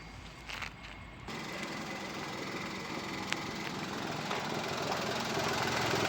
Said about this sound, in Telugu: వెహికల్ ఇంజన్ కండిషన్ చూపిస్తాను చూడండి.